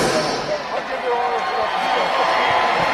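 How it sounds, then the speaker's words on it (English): A crowd at a women's championship boxing main event in Detroit applauds and cheers the two fighters, a steady dense wash of clapping and voices that carries on throughout, with an announcer's voice over the top. "Please put a big round of applause together for both of your main event fighters."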